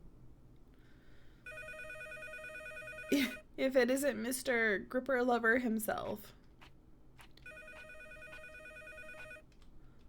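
A telephone rings in a horror video game with two bursts of an electronic ringing tone, one before and one after a person speaks briefly in the middle.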